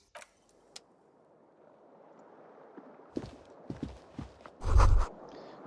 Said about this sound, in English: You hear traffic outside.